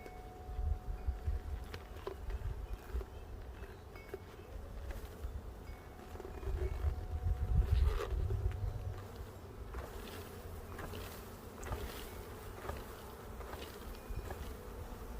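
Honey bees buzz steadily at the entrance of a stacked-box hive in spring, a dense insect drone close by with individual bees passing near, swelling briefly around the middle with no talking.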